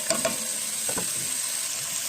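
Garlic and onion browning in a pan for pork afritada, a steady close sizzle with a few light stirring scrapes, no talk over it.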